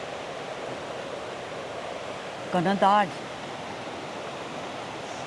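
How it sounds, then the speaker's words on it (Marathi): Water from a rainforest creek rushes and gurgles down from above in a steady, close broadband roar that fills the whole clip, with a brief spoken word cutting in near the middle. "वरून पाण्याचा खळखळाट बघा"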